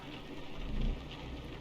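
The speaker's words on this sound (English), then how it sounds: "And wake up in the rain." Steady broadband rain hiss in the trucking game American Truck Simulator, a continuous wash of falling rain with a brief low rumble swelling near the middle, no voices.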